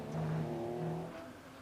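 Porsche race cars battle around the Brands Hatch circuit, an engine note rising in pitch and then fading as the cars draw away, fairly faint and distant.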